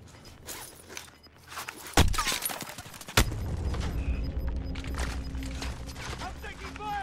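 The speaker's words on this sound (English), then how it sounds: "I'm taking fire!" Video game gunfire in a duo match: a couple of sharp, loud shots stand out around the middle, followed by steady rattling action and movement noise, with people talking over it.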